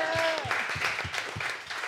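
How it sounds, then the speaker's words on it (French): A studio audience at a French television game show applauds the contestants with brisk, dense clapping, and a voice speaks over the start. "Que je vous demande d'applaudir."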